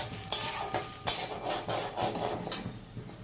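Moong dal fries in a pan, a quiet dry sizzle broken by repeated scraping stirs of a spatula, several short rasping strokes in irregular rhythm, with no talk.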